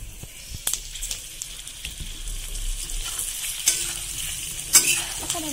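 Olives sizzling in hot oil for a pickle, a close crackling fry with repeated stirring clinks and scrapes of a spoon against the pan.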